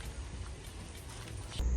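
Heavy rain falling on a campsite during outdoor cooking, a dense steady patter and wash with low rumbling, continuous and fairly close throughout, no voices.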